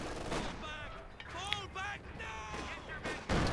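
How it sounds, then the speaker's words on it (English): A ZiS gun artillery barrage booms in a Company of Heroes 2 match, with scattered distant blasts heard under a commentator speaking throughout. "the Zis barrage doing the nasty"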